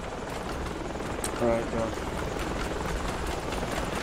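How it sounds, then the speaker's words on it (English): A Chinese military helicopter in the shooter game Project Reality, its rotor and engine droning steadily at middle distance beneath gunfire-free battlefield ambience while players talk briefly over it. "Chinese chopper."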